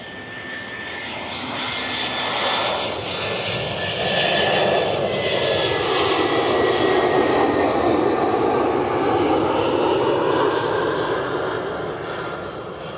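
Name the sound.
American Airlines Boeing 737 jet taxiing at airport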